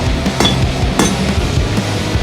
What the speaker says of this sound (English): I'm gonna focus my hammering to only the blade's edge